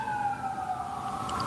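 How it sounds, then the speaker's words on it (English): A faint siren wails at a distance, its tone sliding slowly as it passes, with low background rumble and no voices. "we got sirens going by"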